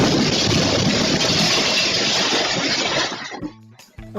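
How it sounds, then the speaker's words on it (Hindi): A motorcycle caught on CCTV roars loud and steady for about three seconds, then cuts off abruptly, leaving scattered clunks and brief tonal noises. "अब जैसे कि ये मोटरसाइकिल वाला अपने पीछे लंबी चौड़ी तबाही लेके आ रहा है"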